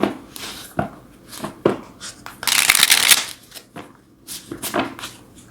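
Tarot cards being shuffled by hand in quick riffling bursts, with a longer dense flurry of crisp card noise in the middle and softer separate slaps before and after, close and fairly loud with no talk.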